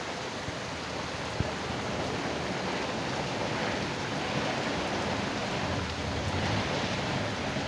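Heavy rain pours in a dense, even wash of noise that holds steady throughout, with no voices.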